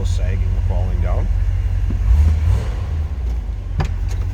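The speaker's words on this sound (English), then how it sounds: "Nice sounding car." A 1972 Chevrolet Corvette convertible with its 350 V8 idles nearby, a steady low rumble that swells briefly midway, while a person talks over it.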